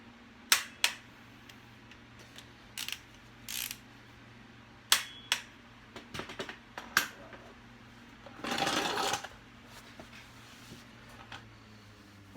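Sharp metallic clicks and ratchet snaps from a torque wrench tightening bolts on a 2.5-ton Rockwell axle wheel hub, scattered irregularly with a longer burst of ratcheting near the end, close and alone.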